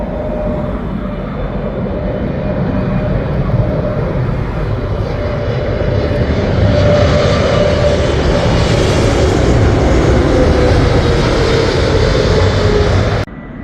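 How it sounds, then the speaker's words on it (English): A British Airways Boeing 777 lands at Heathrow Airport, a loud, continuous jet engine roar that swells as it passes close and then drops sharply at the end. "777 British Airways."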